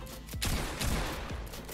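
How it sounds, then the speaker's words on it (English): Gunfire in the Fortnite video game: a short burst of several rapid shots with sharp cracks over a dense, noisy game soundtrack, loud and close. "He shot me through a wall?"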